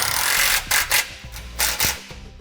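Bolts are snugged up while a Curt trailer hitch receiver goes onto a 2008 Land Rover, with several short ratcheting, rasping bursts from a hand tool close by and no talking.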